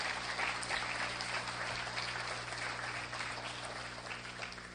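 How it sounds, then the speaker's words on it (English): An audience at the Emgage USA Gala 2018 claps steadily throughout, a dense, even wash of applause with no voices standing out. "Give yourself a hand applause."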